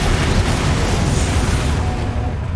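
The Confringo explosive spell bursts in Hogwarts Legacy as a loud, dense, rumbling blast that fills the whole span and fades slightly toward the end.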